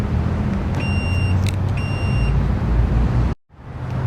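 A Ferrari 458 Italia engine running steadily at idle with a dense, low mechanical rumble, close and loud, with a couple of faint beeps above it, then a brief sharp dropout near the end before it resumes.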